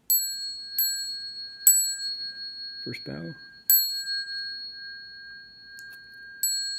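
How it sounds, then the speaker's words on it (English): A Buddhist ceremonial bell is struck repeatedly before bows to the Buddha, giving bright ringing strikes with long sustained tones, several in quick succession and then more spaced apart. A voice speaks briefly between the strikes. "ready for 3 rings of the bell and bows to the Buddha"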